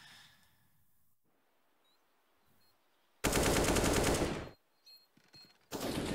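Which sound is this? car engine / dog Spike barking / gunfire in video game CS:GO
gunfire in video game CS:GO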